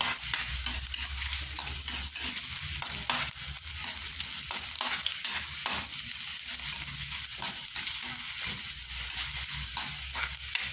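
Peeled ginger frying in a hot pan for adobo, a continuous bright sizzle with stirring scrapes and light clinks repeating throughout, close and steady with no talking.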